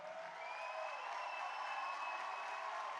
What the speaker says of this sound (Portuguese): pedindo uma forte salva de palmas a todos os alunos da UNILA